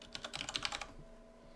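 A burst of rapid typing on a computer keyboard, about a dozen quick close clicks in under a second, then quiet room tone.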